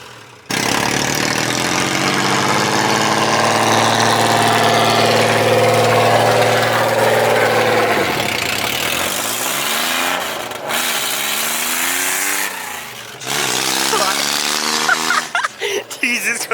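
Suzuki Carry kei truck with a loud exhaust idles close by, a raspy, buzzing drone like a dirt bike that wavers and revs slightly, with a couple of brief dropouts and rattles near the end.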